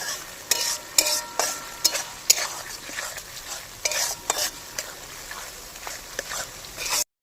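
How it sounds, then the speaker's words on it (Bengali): Onions frying in a pan for village-style fried rice, a soft sizzle broken by sharp, repeated scrapes and clacks of a spatula stirring, close and uneven in rhythm. "পেঁয়াজ দিয়ে দিলাম আমরা"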